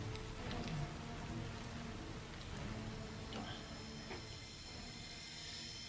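Rain pours from a rain cloud in the Hyrule Warriors video game, a steady, dense hiss of falling drops that holds evenly throughout with no talk.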